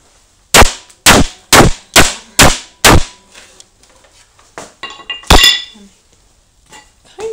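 A Coby CD player being smashed apart gives six loud, sharp snapping cracks in an even rhythm, then quieter rattling and one more hard crack near the end.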